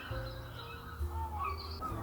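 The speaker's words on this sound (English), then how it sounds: "I love the sound of seagulls." Gulls call faintly in the distance, a few short cries over a low steady background hum.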